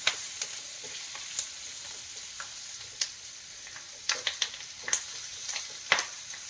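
Ivy gourd frying in a pan over a low flame, a steady soft sizzle with scattered sharp pops and crackles, close and unaccompanied by talk.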